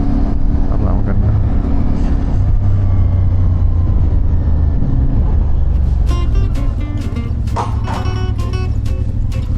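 A CFMOTO 450MT motorcycle on a test ride, its engine droning steadily and loudly with strong wind rush throughout, and a few sharper clicks and rattles near the end.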